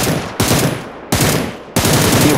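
Rapid automatic gunfire in the video game PUBG Lite, three loud close bursts in quick succession with brief gaps between them, with no talk over the shots.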